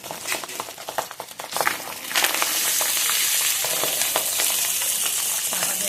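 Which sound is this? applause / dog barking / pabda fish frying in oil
pabda fish frying in oil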